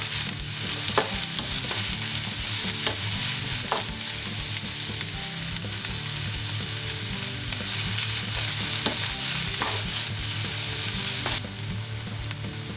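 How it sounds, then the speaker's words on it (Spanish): Garlic and onion sautéing in a little oil, a loud, steady sizzle with repeated scraping strokes of a spoon in the pan, close and without talk, easing slightly near the end. "En un poco de aceite sofreímos el ajo y la cebolla."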